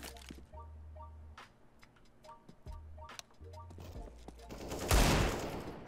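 Gunfire in Counter-Strike: Global Offensive, a run of sharp game gunshots and clicks spread through the moment, ending in a louder burst of noise, with light talk from players.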